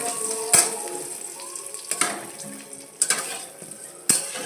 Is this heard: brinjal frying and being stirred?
yes